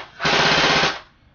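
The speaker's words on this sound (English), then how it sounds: "The gun sounds pretty good when firing." An APS UAR airsoft electric rifle fires one short full-auto burst close up, a rapid buzzing rattle lasting under a second with no talk.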